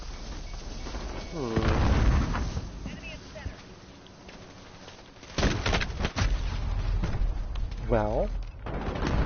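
Explosions from a friendly precision airstrike in a video game, heavy booming blasts arriving in bursts with rumbling tails, mixed with voices talking over the noise.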